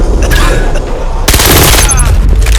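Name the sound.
gunfire in VR video game Vail VR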